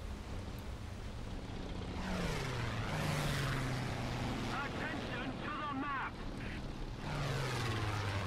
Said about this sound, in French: il y a les deux avions Nasty qui sont vraiment sur Buben